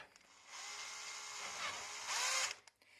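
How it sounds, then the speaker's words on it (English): A power drill whirs steadily for about two seconds tightening a bolt on a pizza oven door, rising to a higher-pitched, strained whine as it finishes driving in, then stops. "And then tighten it up with the drill."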